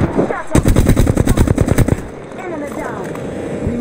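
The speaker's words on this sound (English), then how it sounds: "Shots fired and they're hitting me." Rapid bursts of automatic gunfire crack close and loud in an Apex Legends firefight, a dense rattling volley that stops abruptly, leaving quieter game sounds with faint voice callouts.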